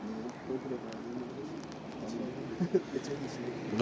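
A pet dove or pigeon belonging to a family cooing softly nearby, low repeated murmuring calls outdoors, faint and partly under people talking.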